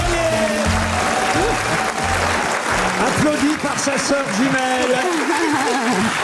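A live cabaret audience at the Lido de Paris breaks into warm applause, steady clapping throughout with a voice talking and some laughter over it.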